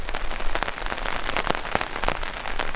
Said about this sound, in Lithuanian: Kol lyja, kol sėdžiu patentu,